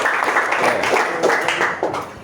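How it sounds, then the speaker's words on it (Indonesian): A classroom of students clapping for a group after its presentation, a brisk burst of many hands close by that holds steady for a couple of seconds. "tepuk tangan dulu untuk kelompok 1 ya"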